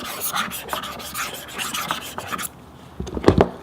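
Knife blade scraping across the jet black finish of an iPhone 7, a run of close, rasping scratch strokes followed by a short pause and a final burst of sharper scraping.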